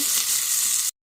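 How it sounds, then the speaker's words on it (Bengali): Chopped onion and potato hitting hot oil in a pan, a loud bright hiss of frying that stops abruptly after a second. "এখন আমি এখানে প্যানে তেল দিয়ে দিচ্ছি, দেন কাঁচা পেঁয়াজ, আলু কুচি"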